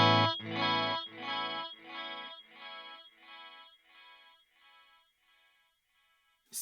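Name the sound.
ambient tone through Nasty Delay plugin by Variety of Sound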